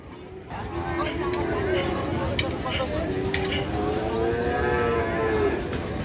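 Cattle moo repeatedly at a busy livestock market near a border area, with long, drawn-out low calls over a steady murmur of people talking in the background.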